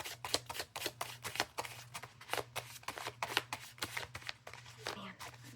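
Tarot cards being shuffled by hand in a steady run of quick, crisp riffling slaps, close and fairly soft, with a faint hum underneath.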